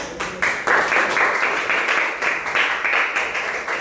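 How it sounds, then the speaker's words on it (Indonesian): A class of students claps in a rhythmic, fairly loud burst of applause in a classroom, steady beats for a few seconds. "Tepuk tangan dulu ya"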